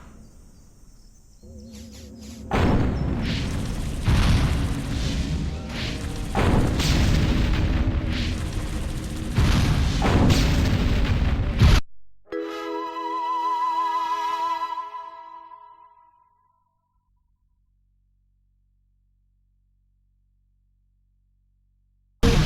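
Battle from the video game Destroy All Humans!, with a long, loud, dense stretch of gunfire and booming blasts, then a ringing electronic tone that fades to silence.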